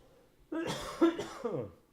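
Three rough, throaty coughs close to the mic from a runner with a lingering cough, coming in quick succession after a moment of quiet.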